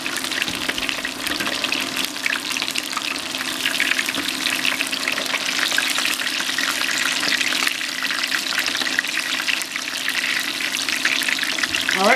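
Steady, loud sizzling and crackling of chicken frying in hot oil, continuous throughout with no talking.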